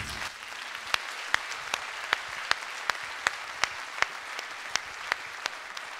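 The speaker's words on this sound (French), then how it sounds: "Je pense qu'on peut encore les applaudir." An audience claps at a mayor's New Year's wishes ceremony in Fourmies, a steady roomful of applause with a few sharp, evenly spaced louder claps standing out near the microphone.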